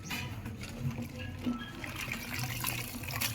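A stained white cloth is dipped and moved in water, making soft sloshing and trickling sounds close by, with faint background murmur.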